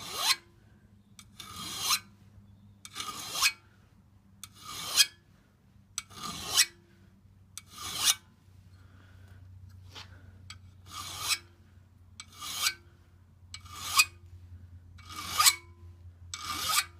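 Steel ice axe pick being sharpened with a hand file, about a dozen bursts of rasping strokes in a steady rhythm, close and clear, with short pauses between them over a low background hum.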